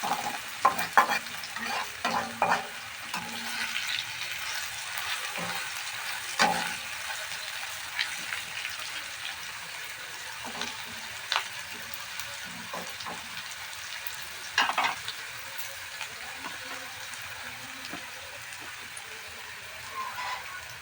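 Food frying in oil in a pan while being stirred, a continuous sizzling crackle broken by repeated scrapes and taps of the spatula, close and unaccompanied by talk.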